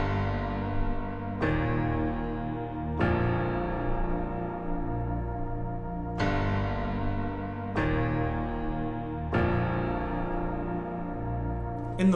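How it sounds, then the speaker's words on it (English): A piano lead from a Mainstage 3 keyboard patch for a song plays sustained three-note chords, struck about every one and a half seconds, each ringing into the next, with no voices. "this song starts off with a cool piano lead"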